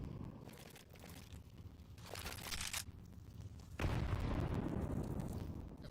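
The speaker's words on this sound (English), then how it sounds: "The flashbang on Trunic." A flashbang grenade goes off in a Counter-Strike match, a sudden broadband burst near the four-second mark that rings on over a busy background of game noise.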